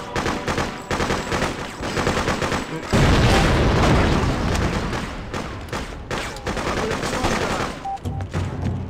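Sustained automatic gunfire in Freedom Fighters, loud rapid bursts that rattle almost continuously, swelling into a heavier barrage in the middle with booms mixed in, close and intense.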